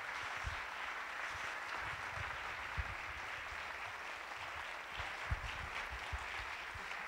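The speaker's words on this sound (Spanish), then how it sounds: "Si le damos un aplauso a la doctora," Steady applause from a conference audience honoring a speaker, a dense continuous wash of many hands clapping at moderate distance, without talk.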